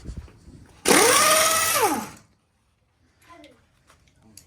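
An impact power tool spins up loudly to remove wheel nuts from a drift car, whining steadily for about a second with a falling pitch as it winds down, followed by faint clatter and background sounds.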